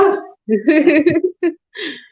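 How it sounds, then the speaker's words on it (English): Dogs bark and yip in a quick, excited series of sharp calls, loud and close. "I always hear them barking every time."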